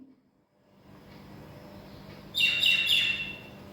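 Small birds chirp outside a house in a quick cluster of bright tweets over a low, steady outdoor background hum.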